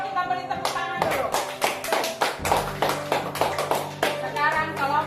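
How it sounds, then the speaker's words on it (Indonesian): Schoolchildren in a classroom clap their hands together, a loud, close, rhythmic series of sharp claps with children's voices and a sung chant running through it. "Yuk kita beri tepuk tangan dulu"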